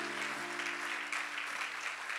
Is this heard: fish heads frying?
no